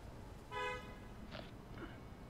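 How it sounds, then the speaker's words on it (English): A car horn gives one short honk, faint and somewhat distant, over low background rumble, followed by a couple of soft indistinct sounds, with no talking. "As a car honks at me."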